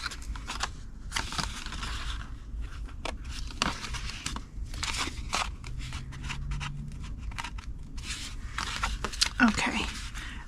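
Scissors snip paper along score lines while assembling a Stampin' Up! Hershey treat box, giving a run of short, sharp cutting bursts close by, with crinkling paper and a voice talking in the background.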